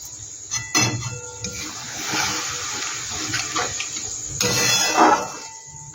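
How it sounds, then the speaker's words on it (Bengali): Water is poured into a bowl that held tomato sauce in a home kitchen, splashing and trickling close by in uneven bursts, with clinks of the bowl in between. "টমেটো সসের বাটিটা ধুয়ে আমি একটু জল দিয়ে দিচ্ছি এখানে।"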